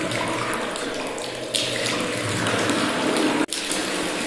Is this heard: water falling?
yes